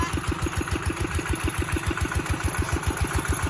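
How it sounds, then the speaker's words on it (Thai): A small tractor engine in a rice field chugs steadily with a fast, even putt-putt rhythm, close and fairly loud, running without pause. "ฝั่งนู้นก็รถไถใหญ่ครับฝั่งนี้ใช้รถไถเล็กครับ"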